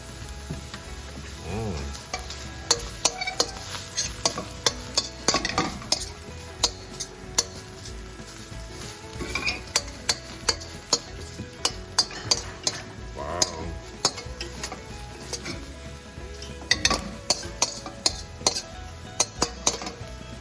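Bangus sisig stirred and mixed in a sizzling pan with soy sauce, steady frying hiss under frequent sharp utensil clacks and scrapes against the metal, close and busy throughout.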